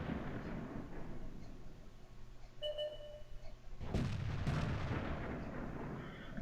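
Tank cannon fire from a Panther Tier VII medium tank in World of Tanks, a loud broadband blast that erupts near the end and rolls over a steady engine hum, with faint electronic beeps before it.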